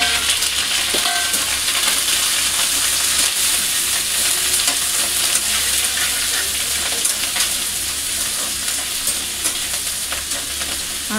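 Onions frying in a pan for semiya upma in a home kitchen: a steady, close hissing sizzle with occasional stirring scrapes and crackles, continuous and even with no talking.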